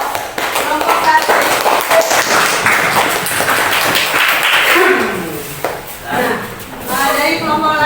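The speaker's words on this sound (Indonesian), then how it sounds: "berikan aplaus dulu untuk kelompok 1" A class applauds a group's presentation, with continuous clapping from many hands mixed with voices talking over it, fading slightly near the end.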